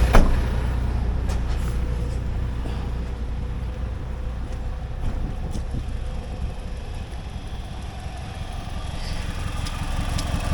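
A car engine runs steadily at a scrapyard, a low continuous idling rumble that holds at moderate loudness from nearby, with no talking.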